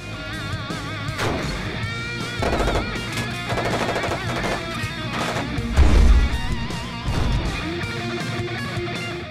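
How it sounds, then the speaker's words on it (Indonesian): Gunfire in a police shootout scene from the film Miami Vice: bursts of rapid automatic shots and single cracks, loud and close, with heavy impacts and a louder blast near the middle. "kepolisian akhirnya unggul dalam adu tembak tersebut"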